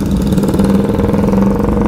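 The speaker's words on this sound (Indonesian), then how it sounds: "Kali ini mah berhenti semua ini motor." Motorcycles idle and putter in a stalled traffic jam in Malang at night, a loud, steady, close engine drone with a pulsing low rumble throughout and no speech.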